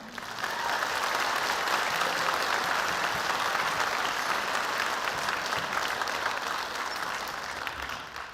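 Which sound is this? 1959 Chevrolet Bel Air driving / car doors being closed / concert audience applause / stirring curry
concert audience applause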